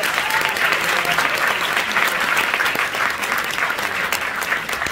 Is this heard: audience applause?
yes